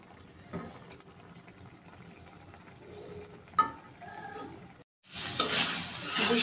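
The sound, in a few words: shrimp being stir-fried with spices in a pan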